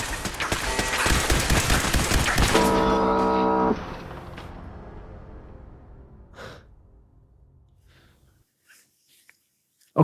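Laser turrets firing in Fallout 4 give a loud, dense burst of rapid zapping shots with a ringing tone for about four seconds, then fade into a long dwindling tail that ends almost silent.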